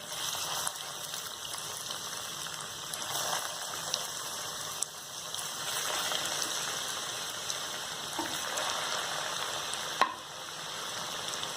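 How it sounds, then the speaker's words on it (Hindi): Chicken kebabs coated in egg and vermicelli fry in hot oil, giving a steady, moderately quiet hiss and crackle throughout, with a few faint clicks and one sharper knock near the end. "जब आपकी ऑयल अच्छी तरह से गर्म हो जाए देन आप तैयार किए हुए कबाब डालें और साथ ही दोनों ओर से गोल्डन ब्राउन होने तक फ्राई कर लें"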